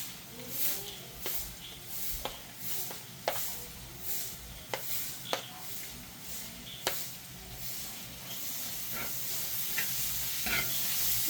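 Garlic sizzles in oil in a pan while it is sautéed for fried-chicken biryani, with a steady hiss broken by sharp scrapes and taps of a spoon stirring at irregular intervals.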